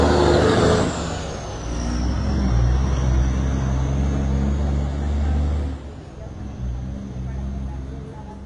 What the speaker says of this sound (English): I was letting a big truck go by.